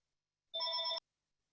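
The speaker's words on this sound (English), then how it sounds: "Sorry for my phone ringing in the background." A phone gives one short, clear electronic ring tone of about half a second, faint and isolated in the background with silence around it.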